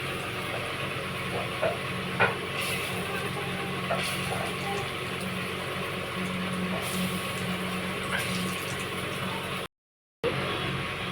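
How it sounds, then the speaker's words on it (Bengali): Lentil fritters (bora) frying in hot oil give a steady, fairly quiet sizzling hiss with scattered small pops, broken by a brief cut near the end. "এই যে সব বড়াগুলো আমরা এরকম করে ভেজে নেব।"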